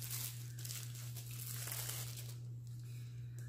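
Steady crinkling of a thin plastic bag being opened around a cosmetics product, continuous and close, with soft rustles and crackles throughout and no voices.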